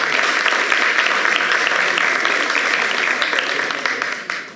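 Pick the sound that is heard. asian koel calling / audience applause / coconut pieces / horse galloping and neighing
audience applause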